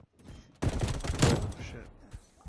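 A Milano 821 submachine gun in Call of Duty fires a fast, loud burst lasting about a second, then tails off into quieter scattered shots and low background noise.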